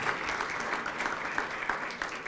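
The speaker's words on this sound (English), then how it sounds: "How about a round of applause for all of our VIP and our assistance dog teams tonight?" Audience applauding at an assistance dog team graduation ceremony, a steady dense burst of clapping from a gathered crowd that holds through the whole stretch.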